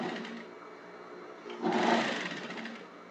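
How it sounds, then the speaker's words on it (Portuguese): A sewing machine stitches fabric for a patchwork rug, with a steady, fairly quiet mechanical whir that grows louder and busier midway through. "comecei a costurar aqui"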